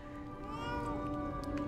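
A cat in the video game Lies of P makes an insistent meowing, caterwauling cry, a single drawn-out tonal call heard up close over quiet background sound.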